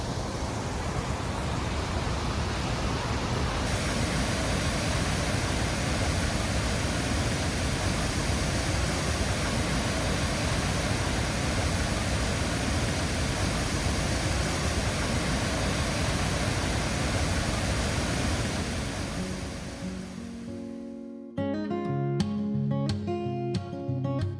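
Tahquamenon Upper Falls in Michigan's Upper Peninsula, about 200 feet wide and 50 feet high, roars as a steady, dense wash of water for about twenty seconds before music takes over.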